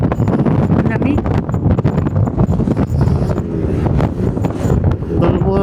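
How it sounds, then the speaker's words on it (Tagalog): Strong wind in Tagaytay buffets the microphone with loud, rumbling gusts while people talk underneath. "Lakas ng hangin."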